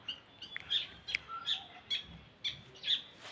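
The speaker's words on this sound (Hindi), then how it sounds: "पक्षियों का कलरव और पक्षियों की ध्वनि जो आप सुन रहे हो" Small birds chirp in a Shivalik hill forest after snowfall, a string of short high tweets repeating every half second or so over a quiet outdoor background, with no talk.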